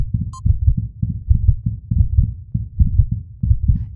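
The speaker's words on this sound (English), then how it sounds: "Let's have a listen to your heartbeat." A cartoon heartbeat heard through a stethoscope, a loud, close, low thumping in quick doubled beats that repeats steadily throughout, opening with a brief metallic ding.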